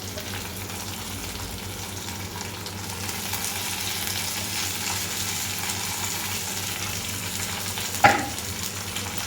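Onion and tomato fry in a pan with a continuous, even crackling sizzle, close and unbroken, with one brief clink near the end.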